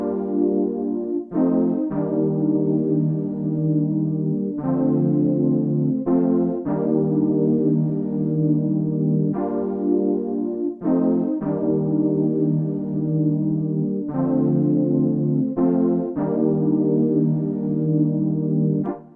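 Piano chord progression played on a 40s Very Own Keys piano preset in FL Studio, sustained chords struck in a repeating pattern with short pauses and restrikes, warm and full, alone with no voices.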